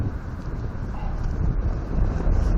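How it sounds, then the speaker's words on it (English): Strong wind buffets an action camera's microphone outdoors at a campfire cooking spot, a continuous loud low rumble that swells and grows heavier toward the end, with no talking. "that wind is really rolling in"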